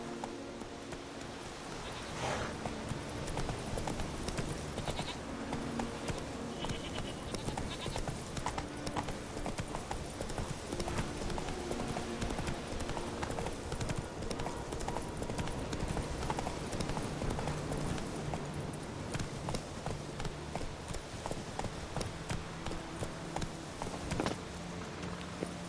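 Roach, Geralt's horse in The Witcher 3, gallops steadily with continuous rhythmic hoofbeats at an even pace throughout, alongside game ambience, a brief whinny and occasional spoken voices.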